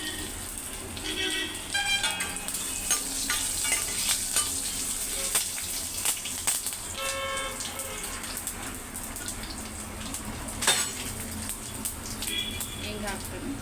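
Dry red chillies, curry leaves and garlic sizzling and crackling in hot oil, a steady close hiss with sharp pops, while a person talks over it.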